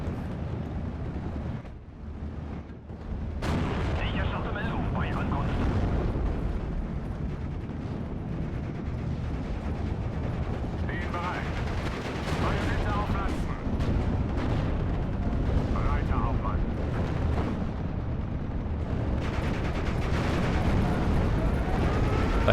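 Jagdpanzer tank destroyer firing on a 6-pounder gun in a Normandy 1944 battle game, a dense, continuous roar of cannon blasts and explosions rumbling on throughout, with a brief lull near the start.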